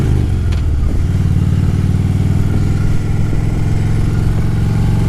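Steady, loud motorcycle engine drone heard up close from a camera mounted on the engine guard while riding, with a rattly mechanical clatter throughout and no talking.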